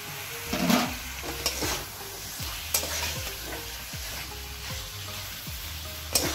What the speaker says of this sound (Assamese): ইয়াত মই এতিয়া পটলকেইটা যে ভাজি থৈছিলোঁ এইটো দি দিছোঁ